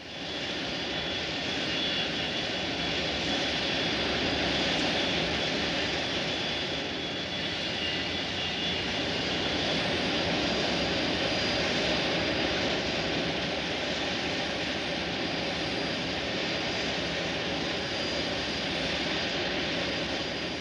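Boeing 747 jumbo jet engines in flight produce a steady, loud broadband roar with a faint high whine, continuous and unchanging throughout.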